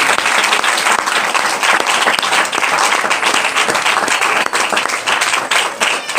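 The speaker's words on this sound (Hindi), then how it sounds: "इस नए साल के लिए तालियों के साथ परमेश्वर का धन्यवाद करें। ताली बजा सकते।" Church congregation clapping together to give thanks for the new year, dense and steady applause filling the whole stretch, loud and close, with no talking over it.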